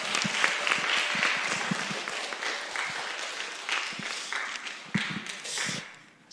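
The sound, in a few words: youth retreat audience applauding to welcome the pastor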